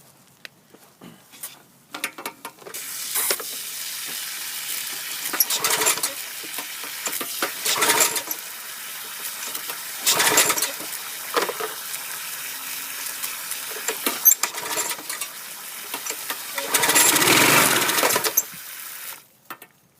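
A Craftsman 2550 psi pressure washer found by the roadside runs and sprays in several loud, hissing bursts of a few seconds each, with quieter gaps between them and no talking.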